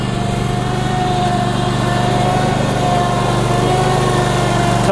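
Cub Cadet Zforce SX 54 steering-wheel zero-turn mower engine running steadily and loud while crossing a sloped grass hill, a constant close drone with no talk over it.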